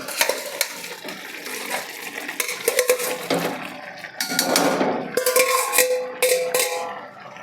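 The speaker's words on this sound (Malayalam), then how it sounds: "കപ്പ ഇങ്ങനെ ചേർത്ത് കൊടുത്ത് ഫുള്ള് ചേർത്ത് നന്നായി ഇളക്കാം" A spoon works through a thick mix of tapioca and sardines in a pot in a Kerala kitchen, giving irregular scraping, clattering and wet squelching strokes, close and fairly loud, with no talk.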